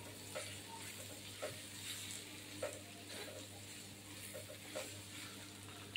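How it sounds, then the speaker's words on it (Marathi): Bitter gourd stir-fry with grated fresh coconut is stirred in a pan, a faint continuous sizzle broken by soft periodic scraping strokes, with no talking. "आता 2 चम्मच मी याच्यामध्ये ओलं नारळाचं खोबरं घालत आहे मी. हे छान मिक्स करून घेऊया आपण."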